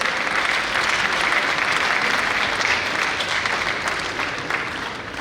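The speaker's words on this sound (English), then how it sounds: "Please, a round of applause." Audience applause at an academic symposium commemorating the Sagrenti war, a dense steady clapping from a crowd that carries on throughout and fades slightly at the end.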